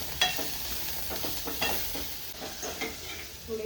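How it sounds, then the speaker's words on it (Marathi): Onions fry in a pan for a village-style dal bhatti, a steady close sizzle with scattered scraping stirs and clinks throughout, no voices. "आपले कांदे पण फ्राय झाले"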